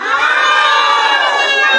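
Group of children at an Islamic holiday boarding camp shouting together in a loud, sustained burst of high-pitched screams and cheering that lasts the whole moment, close and alone without any talk.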